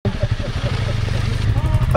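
Honda CRF dirt bike engine running nearby, a steady low rumbling drone with revving fluctuations, heard under someone talking throughout.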